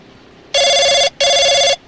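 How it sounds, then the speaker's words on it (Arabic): A telephone rings two loud, close, electronic trilling bursts, each about half a second long and separated by a short gap, with no talking. "التليفون بيرن."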